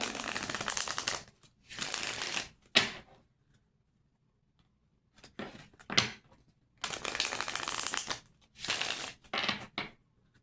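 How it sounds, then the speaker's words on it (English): Tarot cards being shuffled by hand in several bursts of crisp, papery riffling and sliding, with short silent gaps between them and a sharp tap partway through, close and fairly quiet with no talking. "Shuffling this way"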